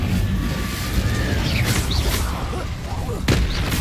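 An Incendio fire spell cast in the video game Hogwarts Legacy makes a roaring, crackling blaze with thuds and sweeping whooshes over several seconds, with a loud burst near the end.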